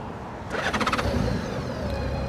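A 2013 Honda Gold Wing 1800 motorcycle engine idles in neutral with a low, steady rumble, briefly pulsing as it catches, then settling into an even, fairly quiet purr.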